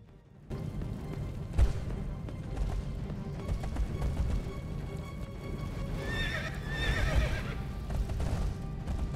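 Pegasus neighing in the fantasy video game Riders of Icarus, with clip-clopping hooves and low game rumble underneath; a bright whinny rises near the end over continuous steps and ambient effects.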